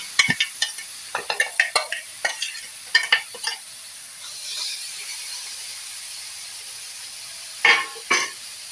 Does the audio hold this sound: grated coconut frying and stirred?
yes